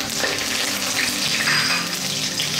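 Curry leaves and rampa sizzling in hot coconut oil for Sri Lankan cooking, a loud, dense crackling fry that holds steady and close from start to finish.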